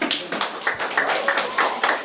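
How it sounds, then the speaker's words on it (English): Light applause from a small audience at a poetry night, a few distinct, fairly close hand claps in an uneven rhythm, brief and modest in volume. "A round of applause for Celeste, please."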